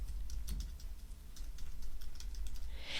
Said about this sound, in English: And then I'll start typing.